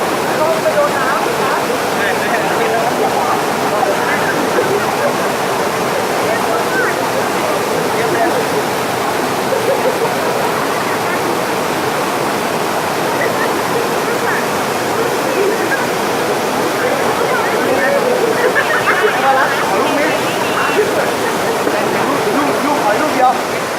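Phlio Waterfall in Chanthaburi, Thailand, roars with a steady, loud rush of falling water throughout. Faint voices blend into the roar.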